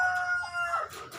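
A backyard rooster crows close and loud, one short, bright cock-a-doodle-doo with a falling end.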